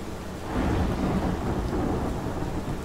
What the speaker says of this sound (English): that rain is all pixely